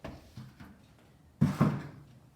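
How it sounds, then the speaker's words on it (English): A bathroom door in a house under renovation, with plastering under way in the hall, is pushed shut, giving two quick solid knocks close by after a stretch of quiet room noise. "You're gonna shut it?"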